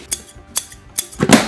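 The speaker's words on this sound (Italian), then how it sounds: "Forbici." Scissors snip three times in quick, crisp strokes while a stroller frame is being unboxed, then a louder rustle of cardboard or plastic follows.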